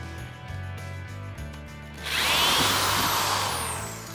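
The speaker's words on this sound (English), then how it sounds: "I'm gonna pull the trigger, I'm gonna drill down, I'm gonna come up, and we're gonna stop." A handheld power drill bores a hole in a JMOD modification job, opening with quiet mechanical clicks before the motor spins up into a loud, steady whine that holds to the end.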